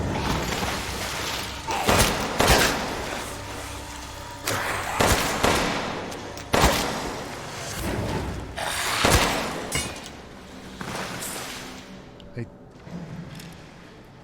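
Repeated gunshots ring out in Resident Evil Village as zombies are shot down, sharp bangs landing irregularly over game ambience and thuds across the stretch.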